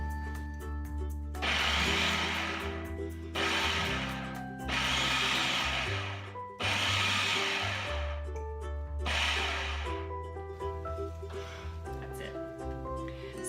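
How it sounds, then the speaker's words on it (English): Food processor pulsing mashed chickpeas, about five loud close bursts of whirring motor and chopping, each lasting one to two seconds, separated by short gaps, with a person talking between the pulses. "over to the food processor. You just want to pulse this a few times"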